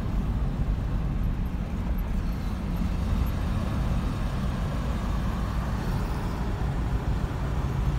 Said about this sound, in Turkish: Her tarafta trafik var.